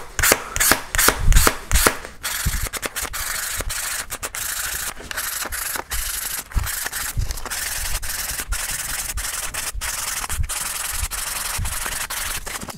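Guitar frets on a Donner Strat are sanded by hand in a long series of quick, rhythmic rasping strokes, close and fairly loud, with short pauses between runs.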